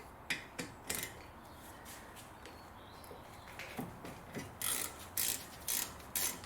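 A hand ratchet clicks in quick bursts while undoing 13 mm bolts on the front brakes of a 2005-era BMW 1 Series E87 118i. The clicking is close and steady, with sharper knocks and clinks of the tool between strokes.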